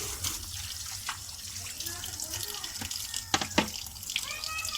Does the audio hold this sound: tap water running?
yes